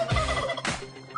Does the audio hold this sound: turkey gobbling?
yes